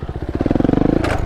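Beta RR 125 LC supermoto motorcycle with a 125cc engine, a brief close, loud burst of pulsing exhaust that rises in pitch like a quick rev, then drops off with a scrape-like hiss.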